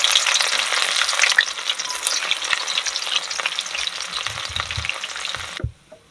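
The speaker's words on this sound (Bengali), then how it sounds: "আমার রসুন ভাজা হয়ে গেছে।" Chopped garlic sizzles loudly in hot oil, a dense, steady crackle with faint stirring scrapes that continues for several seconds and then cuts off abruptly near the end.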